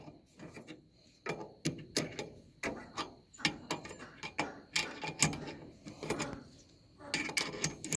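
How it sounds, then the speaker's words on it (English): Ratchet handle tightening a broken livestock trailer jack during a DIY repair, giving a series of sharp, close clicking bursts in an irregular rhythm across the whole stretch, with no talk. "then you ratchet this down to whatever degree you want to"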